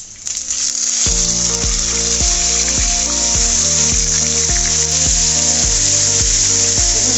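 Rupchanda sea fish fry in hot oil, a loud continuous sizzle with bright crackling throughout, overlaid by a steady rhythmic tonal hum pulsing about twice a second.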